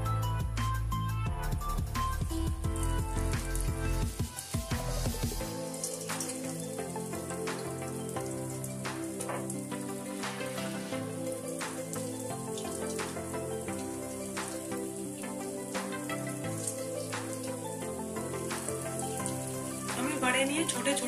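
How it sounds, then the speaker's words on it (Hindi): Moong dal vadas fry in hot oil in a kadai over a medium flame. A continuous crackling sizzle with dense popping bursts runs throughout, over a heavier low rumble in the first few seconds. "तेल हमारा गर्म हो चुका है। अब हम गैस को मीडियम कर देंगे। बड़े को सेकेंगे।"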